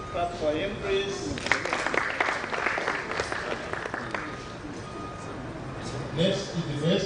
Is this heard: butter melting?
no